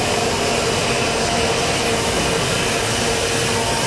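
A milling machine plunge-mills a part in high-volume roughing, giving a loud, continuous broadband roar with a steady whine running through it, unbroken and without speech.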